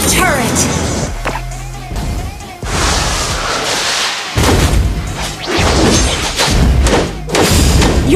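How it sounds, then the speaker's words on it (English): Heavy thuds and crashing booms from a Mobile Legends match mark a turret being destroyed. The game's loud, layered effects hit in several bursts, with an announcer voice speaking over them. "Your team destroyed a turret."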